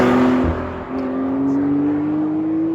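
A Porsche 911 Carrera S of the 991.2 generation pulls away in sport mode, its engine note rising steadily as it accelerates, close and continuous without any talk.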